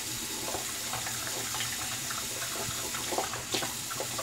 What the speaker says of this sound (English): Sorry, Peter, letting the water run.